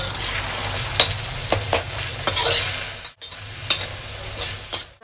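Spinach with green chili and garlic sizzling and bubbling steadily in a hot pan, close by, with a few clinks of a spoon stirring.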